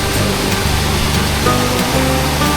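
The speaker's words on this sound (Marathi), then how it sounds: "हे पहा, पाण्याचा फ्लो बघा, फ्लो एकदम खतरनाक" Strong, powerful water flow at Kalu Waterfall, heard as a loud, steady broadband roar of rushing water that fills the whole clip without pause.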